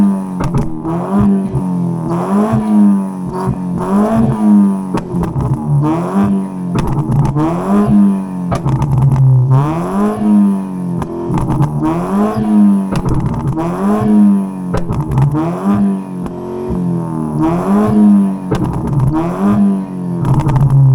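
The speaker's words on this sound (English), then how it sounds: "First thing I'm gonna do is to give her a few revs" A Ford Figo with a new muffler is revved repeatedly in a steady rhythm of loud, close throttle blips, each rising and dropping back, continuing for about twenty seconds with no voices.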